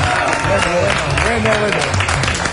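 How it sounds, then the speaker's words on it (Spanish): Studio audience applauding on a Chilean late-night talk show as guests are welcomed, a dense continuous wash of clapping and crowd noise with a host's voice talking over it. "El aplauso para ellos"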